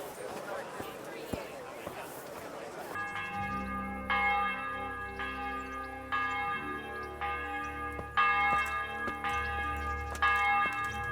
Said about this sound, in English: bells ringing at specific times of the day